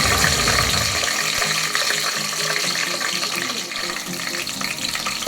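Cinnamon, cardamom, cloves, bay leaf and chilies frying in hot oil for bagara rice, a steady loud sizzle throughout with occasional stirring clinks, no talking.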